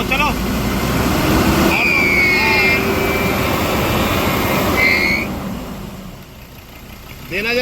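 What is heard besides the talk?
Ford Endeavour 2018 diesel engine revving on accelerator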